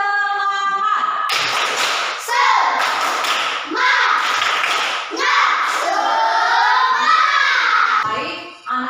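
A class of children does the 'tepuk semangat' clapping routine, loud close-up group claps and slaps in quick rhythmic clusters mixed with chanting young voices.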